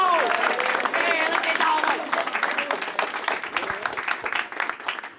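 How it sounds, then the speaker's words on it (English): A crowd at a high school ninth-grade football awards ceremony claps loudly and continuously, with cheering voices mixed in, the applause gradually easing toward the end. "Give yourself a round of applause."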